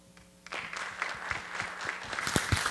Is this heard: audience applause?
yes